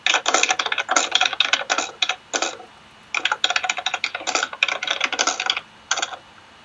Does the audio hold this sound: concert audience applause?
no